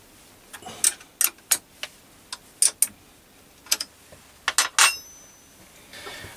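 Metal clicks and light clinks from tightening a tool holder on a lathe-mounted diamond lapping table, a series of sharp, close taps in small irregular clusters with quiet gaps and no talking.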